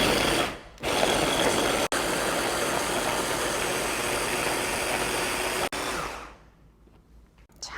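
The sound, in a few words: blender grinding chopped vegetables for kimchi seasoning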